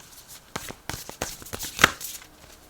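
Oracle cards being shuffled by hand, a series of soft papery riffles and slaps in irregular bursts, close and fairly quiet, with no talking.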